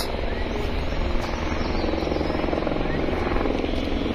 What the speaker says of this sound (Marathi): हेलिकॉप्टर पण सकाळी लवकर चालू होतं